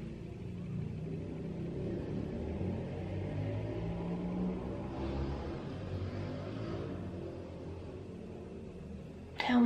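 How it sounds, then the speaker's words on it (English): Traffic outside a room rumbles low and continuous, cars passing at a distance with a swelling whoosh near the middle, muffled and fairly faint, with no talking. "So, can you hear all the cars outside?"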